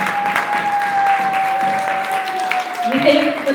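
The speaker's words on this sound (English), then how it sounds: "can we give our parents a round of applause?" An audience at a school awards ceremony gives parents a round of applause, steady clapping of moderate loudness, with voices and a thin tonal hum running underneath.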